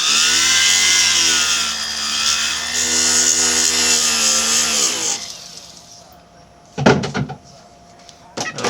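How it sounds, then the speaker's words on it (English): A small power tool, likely a jeweler's bur in a flex-shaft handpiece, cuts notches into the prongs of a three-stone diamond engagement ring during stone setting. A steady high whine runs for about five seconds, then stops and is followed by a few brief sharp clicks. "I'll cut me some notches again."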